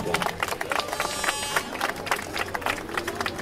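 A crowd gathered outdoors at the Rochefort arsenal for the return of the frigate Hermione applauds the technical team, producing a dense, close burst of clapping mixed with crowd noise.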